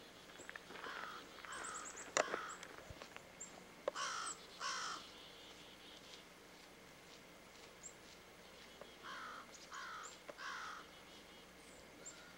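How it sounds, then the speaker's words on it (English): Crows caw repeatedly in short bursts, some near and some farther off, over a quiet outdoor background in church gardens in Nova Scotia. "You can hear the crows."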